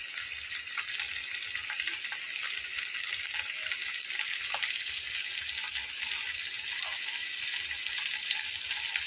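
Two pieces of fish fry in a pan over a raised stove flame, giving a steady, close, continuous hiss and crackle of hot oil with faint scraping underneath and no voices.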